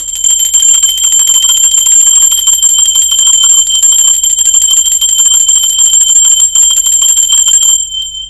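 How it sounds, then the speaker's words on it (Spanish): A loud, bright bell rings steadily and continuously up close for about eight seconds before stopping abruptly. "Ahora sí, va campana."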